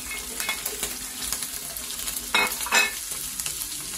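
Garlic and white onion sautéing in a pan for beef estofado, a steady close sizzle with a couple of louder stirring scrapes near the end.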